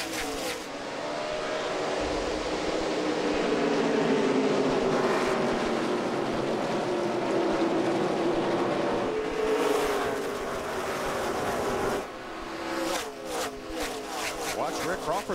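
NASCAR Craftsman Trucks race at the Milwaukee Mile during the 2008 Toyota Tundra 200 as the field takes the green flag, a dense, loud, sustained engine roar that rises and falls as trucks pass, under a commentator's voice.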